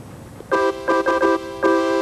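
Sustained Casio keyboard chords layering the jazz organ and brass ensemble presets in a blended timbre, several short held stabs separated by brief gaps, played alone.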